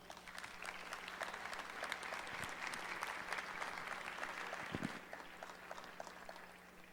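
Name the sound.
welcome applause from audience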